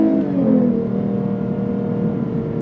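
A 2025 Lexus IS350 F Sport sedan accelerates on throttle, its engine holding a steady, loud drone with a gradually rising pitch from close by, with no talking.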